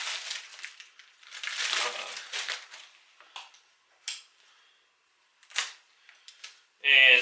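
Plastic packaging on a cheap recovery strap being cut open and crinkled, with bursts of rustling and crackling spread across the clip and short sharp clicks and snaps near the microphone.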